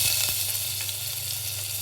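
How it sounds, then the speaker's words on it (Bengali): Chopped ginger sizzles in hot mustard oil in a pan, giving a steady, close hiss of frying with faint crackles and no talking. "তেল গরম হয়ে গেছে, এখন আমরা দিয়ে দিব"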